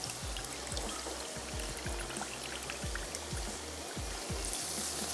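Canned mushrooms tipped out while their liquid drains away in home cooking, a steady close splashing pour with dribbling water throughout, no voices.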